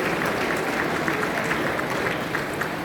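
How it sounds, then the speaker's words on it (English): Sustained applause from a gala audience at the Asian American Coalition of Chicago event in 2023, honoring Governor Pritzker. The clapping is dense and steady, with a faint murmur of crowd voices mixed in. "Give him another round of applause."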